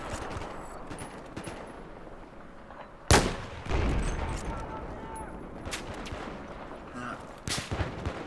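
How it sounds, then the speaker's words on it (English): Distant gunfire in Battlefield 4, with one sharp loud shot followed by scattered cracks and a later pair of reports against a rumbling battlefield backdrop, with a voice speaking. "getting shot at, suppressed from somewhere there"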